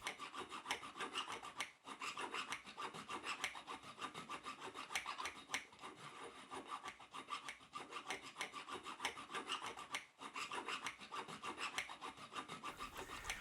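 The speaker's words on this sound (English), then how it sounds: "Now I can use my miter box and a razor saw to remove the cab." A razor saw rasps back and forth through a metal N-scale 2-6-0 locomotive boiler casting to remove the cab. The close, steady strokes are alone and repeat with brief pauses.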